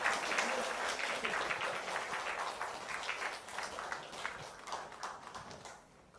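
A church congregation at a Sunday worship service applauding warmly, a dense steady clatter of many hands that gradually thins out toward the end.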